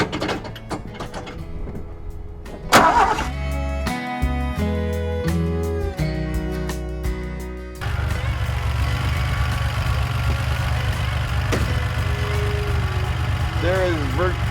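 A 1981 DMC DeLorean engine turns over with mechanical clicks and clunks from the starter. It then settles into a steady, continuous idle heard at close range.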